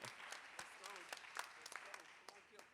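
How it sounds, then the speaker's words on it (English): Applause from the audience at a community meeting about a birthing center closing, a brief patter of clapping heard faint and fairly distant, with some talk over it. "We can clap for that."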